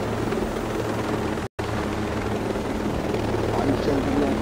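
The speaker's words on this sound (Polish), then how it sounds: "Śmigłowiec." Helicopter flying in the video game Ghost Recon Breakpoint, a loud, continuous rotor drone with a steady low thrum and one brief dropout near the start.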